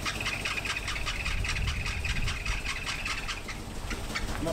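A 1979 Opel Monza barn find, freshly fitted with new HT leads, runs at a rough, lumpy idle, a steady uneven engine beat with a faint whine on top, heard close and alone.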